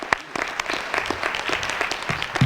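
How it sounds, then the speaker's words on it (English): A steady round of applause from an audience at a teacher pinning ceremony, honoring a high school jazz band, with dense overlapping claps sustained throughout at moderate distance. "I would also like us to do an extra a round of applause for Old Mill High School Red, White, and Blue Jazz Band."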